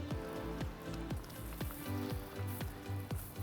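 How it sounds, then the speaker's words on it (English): Chopped onion and garlic sizzle in melted butter in a pan, a steady crackling hiss with soft rhythmic scrapes from stirring throughout, fairly close. "once the onion has sauteed, we're also going to add our garlic. Okay, that nice sizzle."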